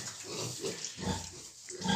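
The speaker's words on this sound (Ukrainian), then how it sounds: "Ці поросятка, що поруч залишилися самі без матусі." Piglets left without their sow on a farm grunt continuously at close range, with overlapping low snorts and squeals forming a busy, steady chatter.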